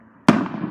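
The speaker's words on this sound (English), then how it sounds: "So here goes the second firework." A single firework goes off outdoors on grass with a sharp, loud bang followed by a short decaying crackle and rumble, with no talk.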